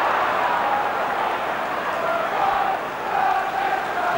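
Sellout football stadium crowd at Charlton v Liverpool, a steady loud roar of massed voices throughout with slight swells, no single voice standing out.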